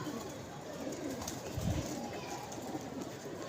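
Soft, low pigeon coos under a steady hum of background noise, fairly close but quiet.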